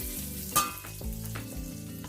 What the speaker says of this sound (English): The oil is already came out of our bacon.